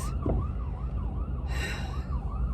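An ambulance siren passes nearby, its loud rising and falling wail repeating steadily over traffic rumble.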